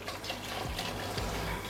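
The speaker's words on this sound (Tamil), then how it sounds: "நம்ம கொஞ்சமாக தண்ணி கழுவி மிக்ஸி ஜார் கழுவி ஊற்றிடலாம்." Water rinsed from a mixer jar is poured into a simmering curry, a brief steady splash and trickle of liquid heard close by.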